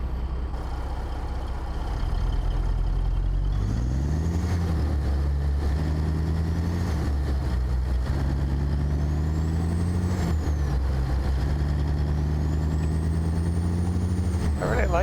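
A Caterpillar 3406B diesel engine in a truck in American Truck Simulator idles deep and steady, then revs up through several gear pulls at low RPM, a continuous heavy rumble with no talk.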